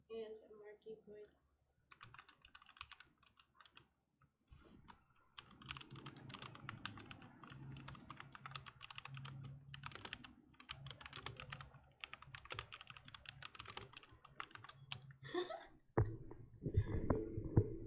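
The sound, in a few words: typing on a computer keyboard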